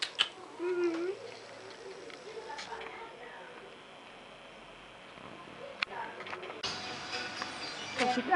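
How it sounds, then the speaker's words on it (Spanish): A yellow kitten gives a few short, rising meows early on, mostly faint, against quiet room background with soft voices and scattered noises. "aquel gato también me gustó"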